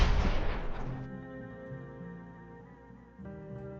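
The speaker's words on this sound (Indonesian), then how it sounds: "Si Deidara kalau mati dia meledak ya" The character Deidara exploding on death in a Naruto mobile fighting game, a loud burst that opens the clip and decays over about a second, followed by quieter game music.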